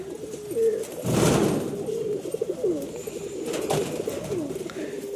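Repeated throaty pigeon coos, nearby and fairly loud, with a brief burst of rustling noise early on.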